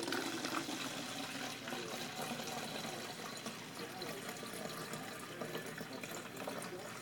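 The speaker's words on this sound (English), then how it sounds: "Fill your bottle." Tap water runs steadily into a bottle while mixing a mouse, bed bug and snake repellent, a continuous close hissing splash that stays even throughout, with a voice faintly audible.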